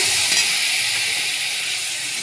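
Ginger frying in a pan after a splash of water from the rinsing bowl, giving a loud, steady, close hiss of sizzling steam that holds for the whole moment without a break.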